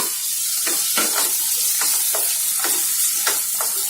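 Onion, capsicum and deseeded tomatoes fry in a pan, with a constant bright sizzle and repeated stirring scrapes that surface every half second or so, close up.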